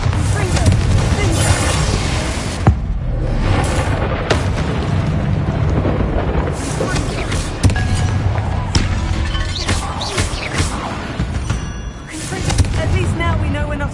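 Bombarda and Confringo spells explode in the Hogwarts Legacy video game, a loud, continuous barrage of booming blasts and crackling debris lasting the whole clip, with several sharp hits standing out.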